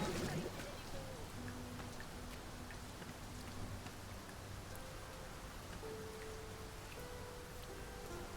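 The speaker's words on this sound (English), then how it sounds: "Sounds like it's raining," Steady rain patters in the video game Dragon's Dogma II over a constant hiss of broadband noise, with faint tonal hums and a brief voice near the start.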